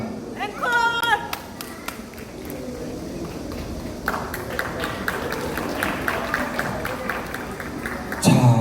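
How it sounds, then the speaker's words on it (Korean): Audience applause at an award ceremony for a trot singing contest, scattered clapping that builds into a steadier round, with a few sharp claps standing out, while a voice speaks briefly near the start and end. "큰 응원의 박수 주시면 고맙겠습니다"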